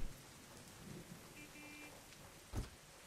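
Soft, steady rain hiss from the video game Kuukiyomi: Consider It, faint and distant, with a single dull thump near the end.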